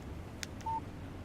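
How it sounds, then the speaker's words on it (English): A phone text message alert sounds in the video game Alan Wake Remastered as a short, clear electronic tone over a low background hum, following a couple of faint clicks. "Text message from Barry."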